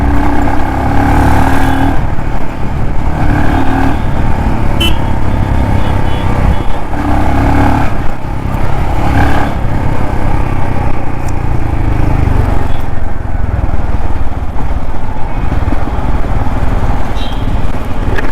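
A 2025 Royal Enfield Scram/Himalayan 440 motorcycle engine runs loud and close, its note rising and falling through repeated revs, with a voice speaking briefly over it at times.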